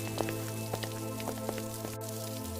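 Steady rain patters on surfaces in a rainy village street scene, a continuous dense hiss with a few louder drops over a low steady hum.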